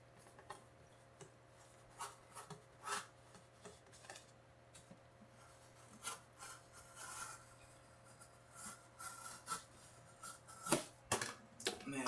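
A knife blade draws through cardboard in a series of faint, scratchy rasping strokes, irregularly spaced and quiet, with no talking.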